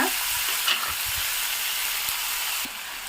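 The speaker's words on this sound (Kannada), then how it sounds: "ಚೆನ್ನಾಗಿ ಫ್ರೈ ಮಾಡ್ಕೊಳ್ಳೋಣ ಸ್ವಲ್ಪ ಮೆತ್ತಗಾದ್ರೆ ಸಾಕು" Chopped tomatoes frying in a hot pan, a dense continuous sizzle with faint stirring taps that drops slightly in level near the end, no talking.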